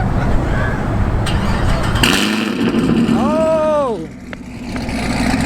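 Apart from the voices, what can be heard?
car engine starting up and revving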